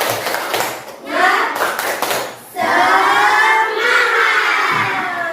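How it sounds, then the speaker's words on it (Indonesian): A class of children in an Indonesian school lesson performs the tepuk semangat spirit clap, rhythmic group clapping mixed with loud shouted chanting, close and lively, with an adult voice leading. "makanya kita tepuk semangat dulu yuk"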